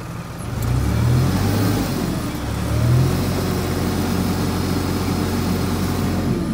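A stuck tractor's engine runs loudly and close with surging low revs, while its belts slip and the load wavers and rises again.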